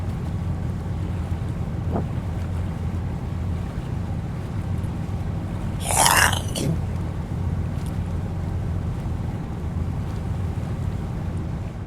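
A fishing boat runs fast across the North Atlantic, with a steady low engine drone, rushing water and wind buffeting the microphone throughout, plus a brief louder splash or gust near the middle.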